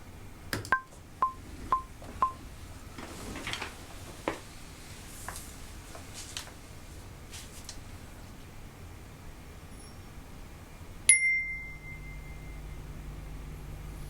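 An Arturia MicroBrute synthesizer plays short, bright bell-like notes, four evenly spaced pings, followed by scattered clicks and a later sustained tone, all fairly quiet.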